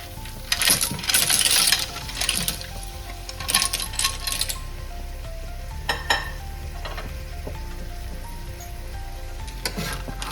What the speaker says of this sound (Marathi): आता याच्यामध्ये आपण शिवल्या टाकून घेऊया